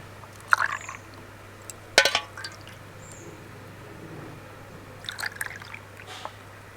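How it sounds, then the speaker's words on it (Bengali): Watermelon juice is poured into an ice cream mold in a few short, separate splashing trickles between quiet stretches, close and moderately loud, with no voices. "এখন এই মোল্ডের মধ্যে তরমুজের রসটা ঢেলে দেব।"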